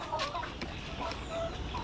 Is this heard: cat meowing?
no